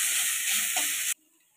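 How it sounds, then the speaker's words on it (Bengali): Potatoes and chopped green chilli fry in a wok under a loud, steady sizzle with a few stirring scrapes, then the sound cuts off abruptly to near silence. "ভালো করে নেড়ে নিচ্ছি।"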